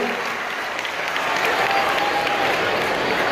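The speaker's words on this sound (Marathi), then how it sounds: "आपणही टाळ्या वाजवून पुन्हा एकदा आपण साहेबांचे या ठिकाणी स्वागत करूया" An audience at a lecture event claps to welcome a guest, a dense, steady burst of applause that swells slightly and carries on throughout.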